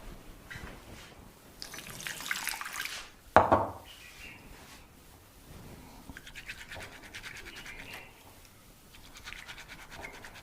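Lentils being rinsed under a running tap, with close splashing and swishing, a louder gush and clatter midway, then softer trickling and rubbing sounds.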